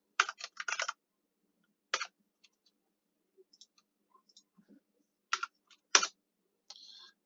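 Computer mouse clicks while selecting a range in an Excel spreadsheet, short bursts of crisp close clicks separated by pauses, some in quick rapid clusters, with faint small taps between.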